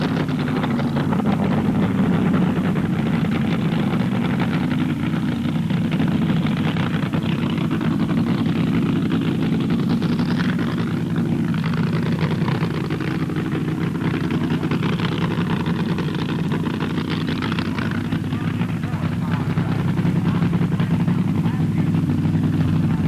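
A 1967 NHRA drag racing car engine approaching, a loud continuous roar that swells gradually with no voices over it.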